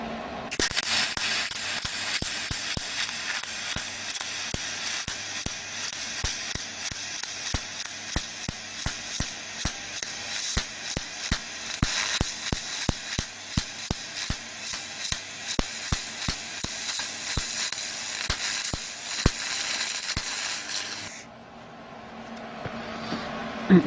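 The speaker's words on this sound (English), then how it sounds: "We'll do a seam weld down here, a beader weld down there now." Seam and bead welds being laid on a bracket during a Ford Cortina Mk3 restoration, a steady close crackling, sizzling hiss with rapid pops running about twenty seconds before cutting off.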